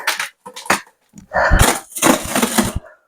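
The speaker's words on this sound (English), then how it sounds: "That noise you just heard was the fiberglass ripping" Fiberglass tears as a bonded board is pried off, giving crackling, splintering bursts that grow louder and longer, with several ragged ripping stretches close by.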